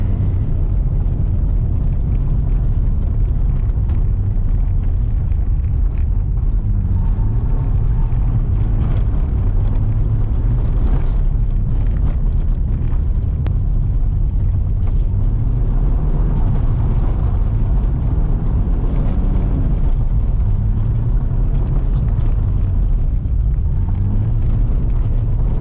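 BMW E36 drifting on a snowy winter road, a continuous loud engine drone with rising and falling revs and tyre and wind rumble throughout, heard from inside the car without talk.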